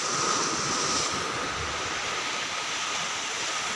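Sea waves at Tithal Beach in Valsad, Gujarat, wash in as a continuous broad roar of surf mixed with wind buffeting the microphone, with no voices.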